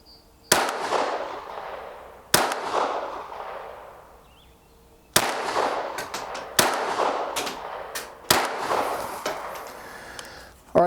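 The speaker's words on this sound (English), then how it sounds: "All right, there's 5 shots." Five sharp, loud gunshots ring out from a Kriss Vector KV22 .22LR pistol on a 7-yard range, fired at uneven intervals of one to three seconds. Each crack decays into a brief echo before the next.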